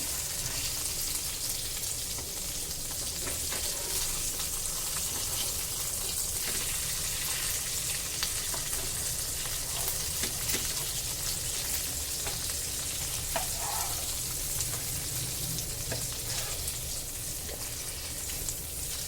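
Rava-coated bangda mackerel frying in a pan, a steady, dense sizzle and crackle that runs evenly throughout with no talk.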